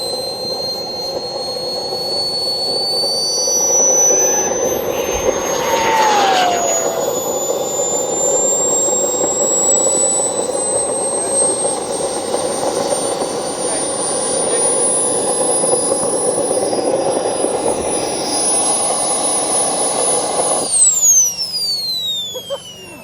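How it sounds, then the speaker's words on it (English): An RC jet car's turbine, a V3 2025 edition, running a start-up check: a sustained loud jet roar with a slowly climbing high whine that drops sharply as it spools down at the end. "This Project Air with his V2 jet car looks amazing. We'll get some better shots later, but it's just doing a start-up check."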